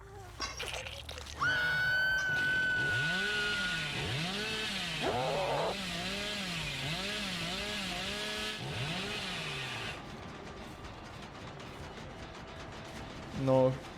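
In the Dead by Daylight video game, the Hillbilly's chainsaw, fitted with a quieter-saw add-on, revs in a long run of rising and falling engine whines for about eight seconds before cutting off, followed by quieter in-game rustling.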